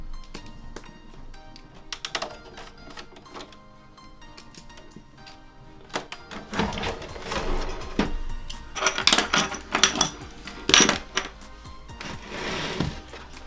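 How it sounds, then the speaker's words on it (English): Screwdriver backing out T8 screws from a PS4 Pro console, quiet at first and then a run of small clicks, ticks and light rattles of parts being handled up close. "From here, we're gonna remove all 3 T8 screws."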